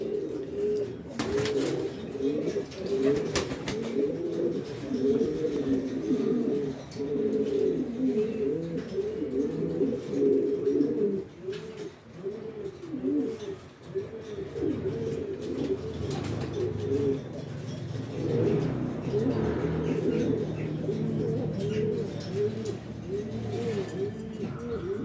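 Pigeons coo close by in a loft of bred show pigeons, their soft rolling calls repeating throughout in overlapping rhythmic phrases, with a few brief clicks and rustles between them.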